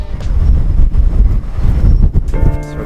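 Wind buffets the microphone on a yacht deck during a crossing to the Bahamas, loud, gusty low rumbling that swells and eases, with a brief tonal hum near the end.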